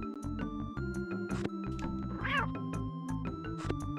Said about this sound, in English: I like that it sounds like a cat.